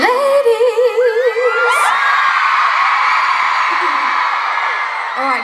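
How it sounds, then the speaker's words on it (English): A crowd at a concert in Melbourne cheers and whoops loudly, with high shrieking voices and a sustained roar of shouting that fills the whole stretch, one voice rising above the rest near the start. "So give yourselves a round of applause."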